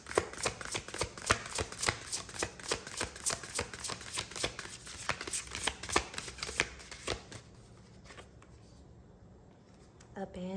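A deck of oracle cards is shuffled by hand in a quick, steady run of crisp riffling flicks for about seven seconds before the shuffling stops and the room goes quiet.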